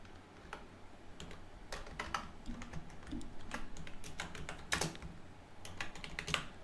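Keys clatter on a computer keyboard as text is typed into AutoCAD, a close, irregular run of light clicks over a faint steady room hum, with no speech.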